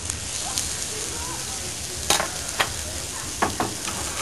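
Sliced tender fillet-end steak frying in a pan, a steady broadband sizzle with a few sharp spits and pops near the middle and end, close and moderately loud, no talking.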